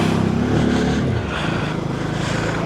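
A motorcycle pulls away on a road at the start of a long ride, its engine droning and revving steadily with passing road and wind noise, loud and close, no talk.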